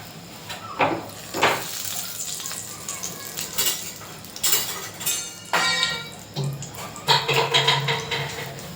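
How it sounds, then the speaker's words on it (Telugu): A bay leaf dropped into hot oil sizzles in short crackling bursts among metallic clinks of a pan and spoon, with a brief louder spatter near the end. "ఆయిల్ కూడా బాగా హీట్ ఎక్కాలి ఫస్ట్ అయితే బిర్యానీ ఆకు అయితే వేస్తున్నాను"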